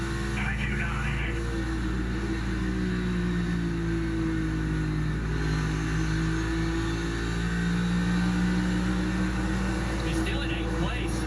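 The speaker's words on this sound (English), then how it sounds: "Let's listen to the engine as we ride along." NASCAR race car engine heard from onboard during a championship race, the number 20 car suspected of a problem under the hood, a loud steady drone with slowly rising and falling pitch, continuous throughout.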